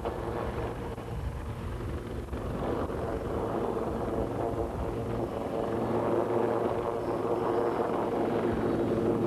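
A Westland Lynx helicopter flies at the 1993 Biggin Hill Air Show, its rotor and engine making a steady, loud drone that carries through the whole stretch without a break.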